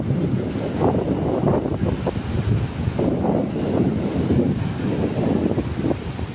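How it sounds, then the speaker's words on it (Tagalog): Strong ocean waves roll and crash continuously at a beach in Puerto Azul, Ternate, Cavite, with gusty wind buffeting the microphone throughout. "dahil sa mga lakas ng alon"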